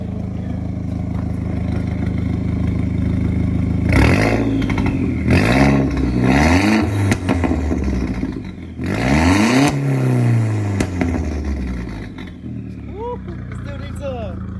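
Volkswagen Jetta GLI MKIV engine with dual tip exhaust revved several times, each rev climbing sharply then falling back to a rumbling idle, heard close with people talking over it.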